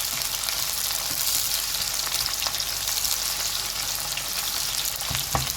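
Chopped onions frying in a pan for Cantonese-style noodles, a dense steady sizzle close by, broken by occasional sharp clinks and scrapes of stirring, with no talking.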